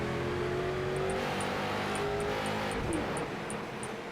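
Onboard race car engine audio from the iRacing sim, a street stock at Bristol, drones loudly and steadily with a rough, continuous roar and faint shifting pitch throughout, with no talking.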